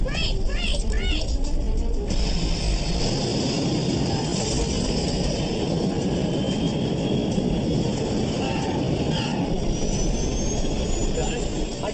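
A Northwest Airlines jet airliner comes in to touch down on the runway with a loud, sustained roar of jet engines and rushing air that stays dense and close throughout, while voices speak over it early on.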